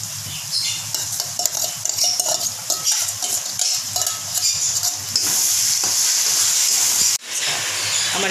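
Soybean chili fries in a pan with a steady sizzle, broken by stirring scrapes, then swells into a louder, brighter hiss near the end, with no voices.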